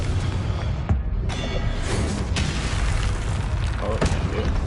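Fiery spell explosions from the Confringo curse in the Hogwarts Legacy video game, a dense continuous barrage of booms and bursts layered over game effects and music, loud throughout with sharp hits around the middle and end.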